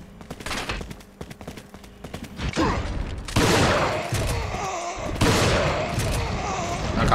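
Shotgun blasts ring out in the video game Resident Evil 4 Remake, several loud booming shots with reverberant tails at about 2.5, 3.4 and 5.2 seconds over game ambience and clatter.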